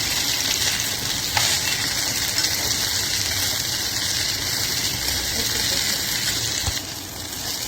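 Okra bhaji with no onion or garlic fries in a pan, giving a loud, steady, close sizzle that hisses on without pause, with a couple of faint utensil knocks.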